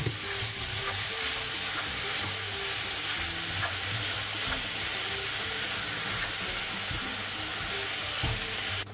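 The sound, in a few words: ground meat frying in pan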